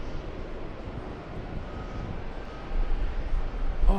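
An airliner on the world's longest flight rumbles overhead, a steady broad roar that swells louder toward the end, with faint wind noise and no talking.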